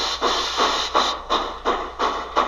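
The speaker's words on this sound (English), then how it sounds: "you'll hear that the sound of the cylinder cock stays in time" Model steam locomotive with a Tsunami2 sound decoder, cylinder cocks open and chuffing bursts of hissing steam in a steady, regular rhythm, about two per second, close and clear with no talk.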